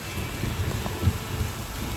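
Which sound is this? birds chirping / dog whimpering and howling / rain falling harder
rain falling harder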